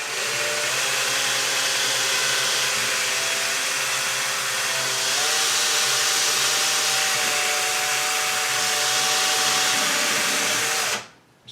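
A power drill bores slowly through a cabinet door while fitting hardware, giving a steady, close motor whine that holds for about ten seconds, shifts slightly in pitch midway, then cuts off abruptly.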